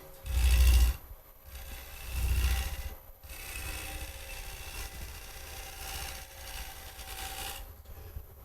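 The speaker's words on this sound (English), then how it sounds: "that was a roughing cut with a swept back grind right here" A swept-back grind gouge takes a roughing cut on spinning wood, a coarse rasping scrape that swells and fades in long strokes over a low rumble, close and steady for several seconds.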